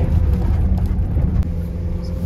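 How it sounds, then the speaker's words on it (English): BMW X5 diesel engine heard from inside while driving off-road: a constant, loud low rumble and drone with no break across the short stretch. "Some diesel noises."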